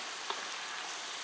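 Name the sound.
stirring farfalle pasta in a frying pan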